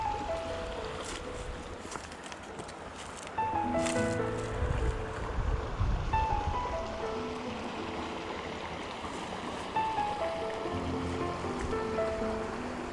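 River water flows on a fall hike after weeks without rain, a continuous rushing wash that swells louder midway, with scattered birdlike chirps over it and no talking.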